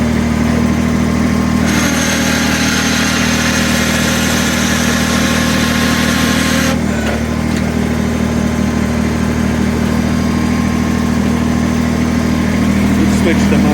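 The motor of a Kubota BX23S tractor idles loudly and close by in a steady, even drone with constant vibration, while someone talks over it.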